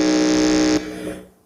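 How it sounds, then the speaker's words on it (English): An electronic contestant buzzer is tested at a junior high school quiz competition's regional qualifier, giving one loud, steady, harsh tone for under a second before cutting off into a brief fading ring. "You can do a quick buzzer check."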